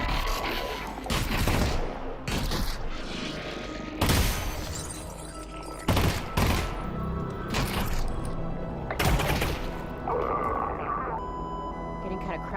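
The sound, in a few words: shotgun firing in a video game trailer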